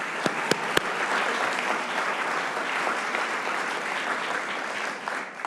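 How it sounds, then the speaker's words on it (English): Sustained audience applause fills the room at a community forestry gathering, a dense steady wash of many hands clapping with a few sharper claps near the start, fading slightly at the end. "Let's give them a round of applause."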